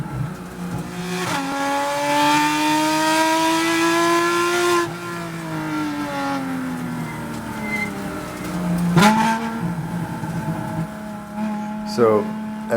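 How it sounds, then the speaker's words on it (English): Spec Miata race cars run on a wet club-racing track, one engine revving up and holding high through the gears before dropping off, then climbing again, loud and close like an in-car perspective, with a voice talking over parts of it. "she's racing with the Spec Miata class, which has 15 or 16 cars"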